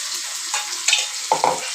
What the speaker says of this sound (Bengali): আমি এবার মাংসগুলো এরকম করে পেঁয়াজ ভাজার মধ্যে দিয়ে একটু ভেজে নেব।